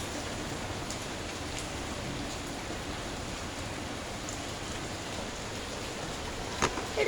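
Rain falls steadily outdoors, a dense, even wash of hiss with a few faint drip clicks, moderately loud and without voices.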